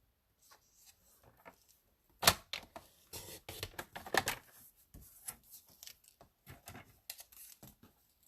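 A paper trimmer cuts card stock, close and quiet, with scattered clicks, slides and crisp snaps of the blade at an uneven pace.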